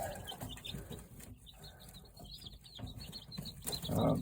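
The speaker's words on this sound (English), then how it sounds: "We sold off the hens, so we gotta find a house for those 2 roosters, home." Chickens and two roosters on a small home flock cluck and call outdoors, with scattered bird vocalizations rising and falling and a louder burst near the end.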